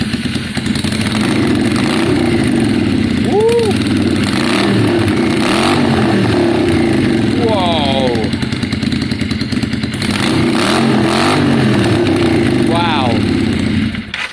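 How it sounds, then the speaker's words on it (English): A Yamaha Virago motorcycle fitted with straight drag pipes revs loudly up close, a raw rumbling exhaust that rises and falls in repeated blips, with an excited exclamation and brief voices over it. "Let's get these straight pipes on. If they're straight pipes, that gives us an idea. This will give us an idea of the sound."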